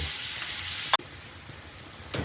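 Pork fat and onion frying in a pan for green borscht, a steady close sizzle with one sharp clack of a utensil partway through and a brief louder burst of crackle near the end.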